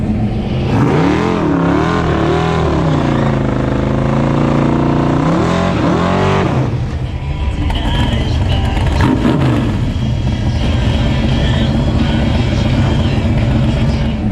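At a dragstrip, a blue Mustang with a 521 cubic inch engine revs loudly nearby in rising and falling sweeps, then breaks into a rougher, sustained roar as the race runs.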